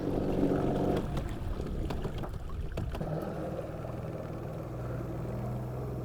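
A small outboard motor on a mini tritoon boat runs in reverse on calm water, a steady droning hum with water wash, louder at first then settling to an even tone.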